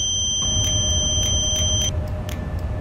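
A high, steady warning tone from a locomotive cab in the SimRail train simulator, heard alone for about two seconds over low engine rumble, with faint repeated clicks before it stops and the rumble continues.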